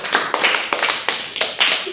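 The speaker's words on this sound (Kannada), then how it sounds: "ಚಪ್ಪಾಳೆ ಹಾಕ್ರಿ." Schoolchildren in a classroom clap together in a quick, even rhythm: about seven sharp, close claps across two seconds, with no talking.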